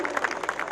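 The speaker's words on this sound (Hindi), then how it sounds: "जोरदार तालियां हो जाएं।" Brief burst of audience clapping welcoming a poet at a Hindi kavi sammelan ceremony, fairly faint and uneven with a few louder claps standing out.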